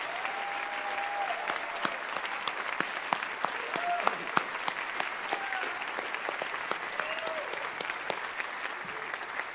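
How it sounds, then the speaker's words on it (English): An auditorium audience at a dedication ceremony gives sustained applause, a dense, even roar of many hands clapping with sharp individual claps standing out, and a few faint whistles over it. "So how about a round of applause for Mrs. Pajak?"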